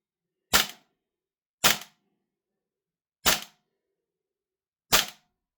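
A Salvo Precision BRN-180 Deluxe gas blowback airsoft rifle fires four sharp, clean shots spaced about a second or more apart, each a crisp crack with a short snappy tail, loud and close in otherwise silent surroundings.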